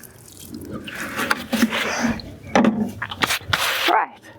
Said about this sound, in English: give them a little bit of a water